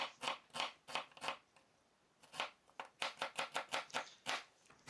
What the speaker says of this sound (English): I'm sure you know how to cut an onion